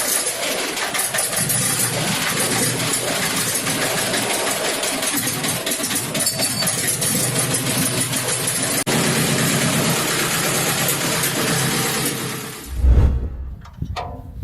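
A rare old stationary engine runs steadily, with a loud, continuous rumbling chug and mechanical clatter that hold throughout before cutting out abruptly near the end, followed by a brief low thump.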